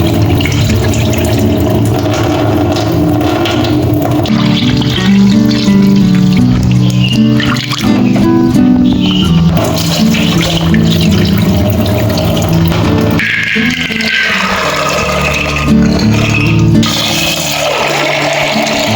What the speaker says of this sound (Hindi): ये मैंने रात को ही भिगोने रख दिए हैं, तो 2-3 पानी से वॉश करते हैं।